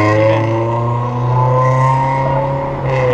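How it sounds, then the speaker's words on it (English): A loud car engine drones steadily nearby for about three seconds, a strong low hum with layered harmonics swelling slightly as it goes by, with no talking over it. "Yeah, that car is loud,"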